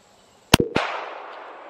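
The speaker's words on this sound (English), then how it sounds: "Let's take two shots with the 380." Two sharp, loud .380 pistol shots fired outdoors at a bulletproof vest, cracking in quick succession and followed by a fading echo.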